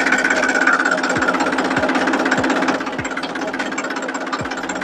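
A Massey Ferguson 241 DI tractor diesel engine runs at idle close by, producing a steady, loud, even knocking chug with a regular beat and no talking.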